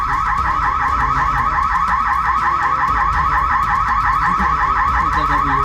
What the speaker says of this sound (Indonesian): pelaku kaget karena alarm minimarket berbunyi